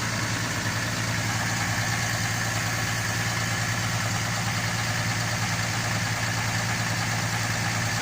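A New Holland T7000 tractor idles steadily while its suspension lowers, a constant low engine hum with faint mechanical vibration and no talking.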